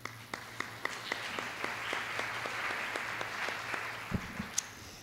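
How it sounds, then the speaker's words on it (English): Audience applause at the closing session of the SEI Science Forum 2017, with distinct individual claps in a steady, moderately sparse rhythm over a soft room hum, close and clear, fading slightly near the end. "So a big applaud for that summary"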